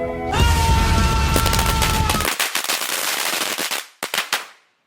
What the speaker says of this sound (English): I just exploded this Lego minifigure